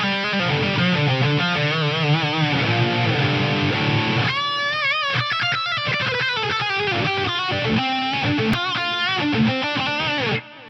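Electric guitar with fill playing through a TC Electronic G-Force effects unit, amp tones from an Axe-FX, lush sustained chords shifting into a phrase of ringing notes with trailing delay echoes, heard alone.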